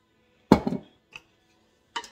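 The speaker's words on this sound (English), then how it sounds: "And I give that another little stir here." Diced tomatoes stirred in a Ninja Speedi cooker pot: a loud scraping clatter of utensil against the pot, a short knock, then another brief scrape, with quiet gaps between.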